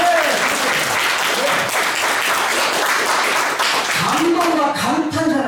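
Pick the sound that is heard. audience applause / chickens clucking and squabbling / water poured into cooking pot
audience applause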